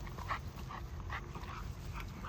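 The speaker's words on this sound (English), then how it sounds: "These are puppies." Puppies whimper and yip in a kennel, a run of thin, high cries repeating close by over a low, steady background hum.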